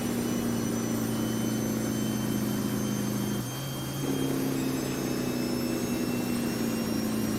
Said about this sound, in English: Engine brake. Listen to that.